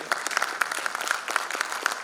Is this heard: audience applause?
yes